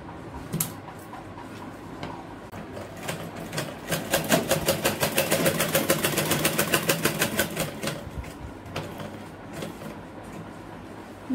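Sewing machine stitching the side seam of a sleeveless kurti, a rapid, steady run of needle strokes that builds in the middle and then stops, with softer handling clicks around it and no talk.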